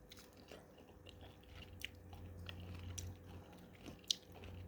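Soft, close crunching and chewing of a sour-sweet Thai green mango salad, irregular bites and squishy mastication at low volume with a few sharper crunches, no talking.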